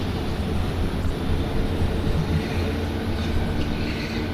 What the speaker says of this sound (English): Whoa, this train is a rocket ship.